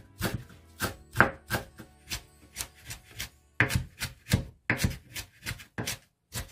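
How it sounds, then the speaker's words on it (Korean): A knife chops green onion and chives finely on a cutting board, a quick, steady series of crisp knocks close by, with no talking. "쫑쫑 곱게 썰어주세요."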